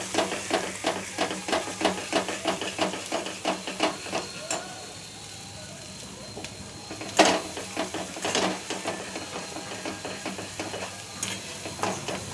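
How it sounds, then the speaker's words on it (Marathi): Spices and masala for pav bhaji frying in oil, a continuous hissing sizzle with rapid rhythmic scraping and stirring strokes close by, one louder clatter midway. "बघा हे भाजते चांगलं तेल सुटतपर्यंत"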